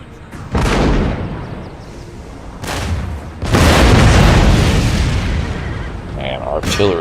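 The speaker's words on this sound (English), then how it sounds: "artillery is just deadly against family units" Artillery fire in Total War: Empire with Russian forces: heavy, overlapping booms and blasts roll through a loud, continuous battle din, with a few sharper cracks near the end.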